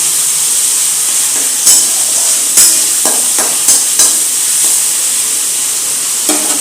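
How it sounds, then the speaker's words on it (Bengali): Cabbage with capsicum frying loudly in a pan, a steady close sizzle and hiss broken by several sharp scrapes and knocks of a spatula as it is stirred. "এটাকেও আমি একটু নাড়াচাড়া করছি"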